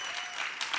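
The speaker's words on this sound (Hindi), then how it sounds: "एक बार गौहर और राजीव के लिए जोरदार तालियां।" Brief burst of studio audience applause on The Kapil Sharma Show comedy set, dense and steady clapping from many hands heard alone for under a second.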